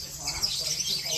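A small black-capped bird chirping at a ranch, with repeated high, thin tweets over a faint low background murmur.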